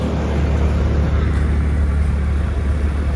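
A car driving fast up a ghat road, its engine a steady close droning roar with road and wind noise throughout.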